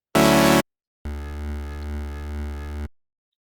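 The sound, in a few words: synth bass sound-designed in Serum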